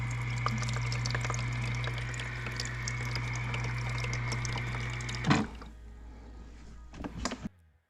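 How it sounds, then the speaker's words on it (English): Water trickles into an LG refrigerator ice maker under a steady low mechanical hum, then stops abruptly partway through, leaving a few faint clicks and knocks in a quieter tail. "So it's just doing the cycle, and now it's gonna fill in water."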